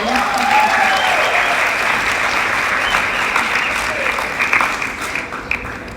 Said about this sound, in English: Let's give a round of applause to Dust Devil number